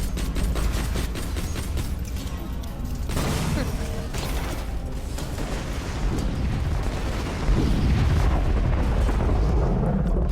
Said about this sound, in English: I love the explosion sound when you destroy a constructor bot